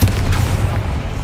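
A blasting spell explodes in the Hogwarts Legacy video game, a short, heavy, booming blast with a deep rumbling body that fills the whole moment before trailing off.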